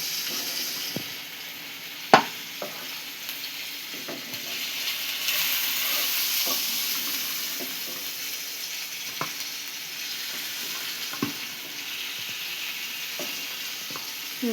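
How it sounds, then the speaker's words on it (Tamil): Onions fry in oil in a pan for mutton chops with a continuous soft sizzle, broken by occasional sharp clinks and scrapes of a stirring utensil. "வெங்காயத்தை போடுறாங்க, தண்ணிலாம் போடக்கூடாது, எண்ணெயில் தான்."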